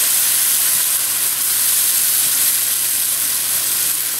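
Hot pork chop juice ladled into a pan to start gravy for smothered pork chops, producing a loud, continuous close-up sizzle and steamy hiss that holds steady throughout with no voices.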